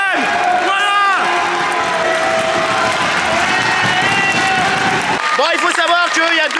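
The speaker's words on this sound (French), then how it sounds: "et les applaudissements des supporters de QRM" A large stadium crowd of football supporters at a Ligue 2 match roars and claps continuously, loud and distant, with scattered whistles and shouts rising near the end.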